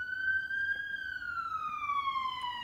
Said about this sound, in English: Sorry about the ambulance going by.